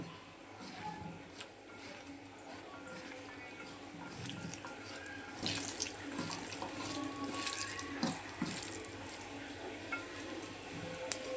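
Water pours into a mix of gram flour, salt, turmeric and chili powder, a steady trickling splash followed by wet squishy mixing that grows slightly louder and busier toward the end, heard close up.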